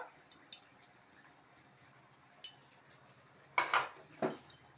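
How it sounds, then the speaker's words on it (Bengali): A spoon clinks against a pot as sour curd is stirred in, with a few sharp metallic taps toward the end over a quiet background. "টক দইটা দিয়ে আবার একটু আমি নাড়িয়ে নেব"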